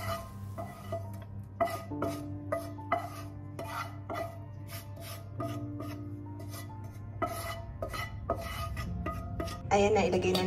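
Leek is stirred into a tart batter mixture with a utensil, giving irregular scraping and tapping against the bowl, close and fairly quiet, with a louder clatter at the very end and no talking.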